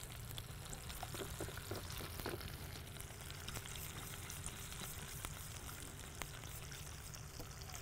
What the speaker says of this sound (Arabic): يبتدي يبقلل ويغلي كده، عشان ايه يبتدي كل المكونات اللي فيها تمتزج مع بعض